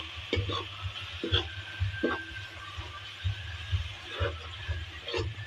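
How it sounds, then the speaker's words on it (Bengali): Turmeric, cumin and coriander powders are stirred and fried in a pan, with repeated scraping spoon strokes and knocks over a soft background sizzle. "আবার একটু নেড়ে চেড়ে কষিয়ে নেব।"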